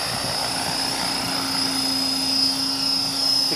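A radio-controlled AH-1 Cobra scale model helicopter descends to land, its steady rotor and motor whine humming continuously up close with a constant high tone throughout, no voices over it.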